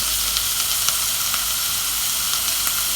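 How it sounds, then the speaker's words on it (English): Tomato puree sizzles steadily in a hot pan for minestrone soup, a bright continuous frying hiss close to the listener, with faint stirring scrapes ticking through it. "Stir in tomato puree and cook for 3 minutes."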